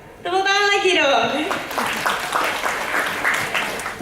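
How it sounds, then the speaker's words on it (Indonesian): After a drawn-out vocal cheer, a crowd at a sales and distributor event in Medan breaks into steady clapping that continues to the end. "Tepuk tangan lagi dong."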